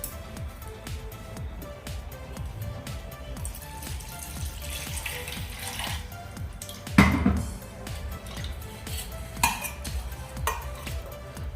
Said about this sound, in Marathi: मी यामध्ये आणखी पाणी घालते